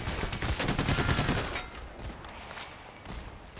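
Bursts of rapid gunfire from the heist shooter Payday: The Heist, dense and loud in the first second and a half, then thinning to scattered shots and a fainter battle background.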